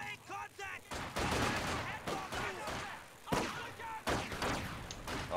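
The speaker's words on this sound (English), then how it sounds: "Oh, heavy mortar?" Heavy mortar fire in Company of Heroes 2, with repeated booming blasts and crackling explosions in quick succession, loud and close, under a busy wartime soundscape.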